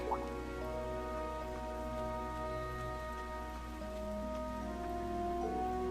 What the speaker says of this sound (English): I didn't think it was raining this hard.